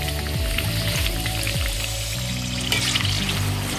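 Gujiya pastries fry in hot oil, giving a dense, continuous crackling hiss that runs steadily and close throughout, with no voices.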